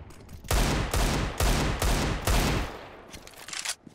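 AK rifle fire in a video game: a rapid burst of about five loud, booming shots in even rhythm, close and dominant, followed by quieter tail-off noise.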